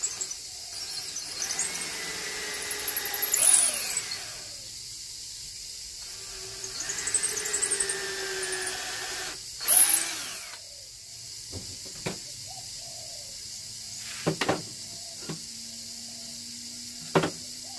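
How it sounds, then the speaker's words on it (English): A power drill boring holes into a piece of wood for an olive bonsai, the motor whining in several separate bursts of a few seconds each, with short knocks and handling clicks in between. "and just drill some holes into"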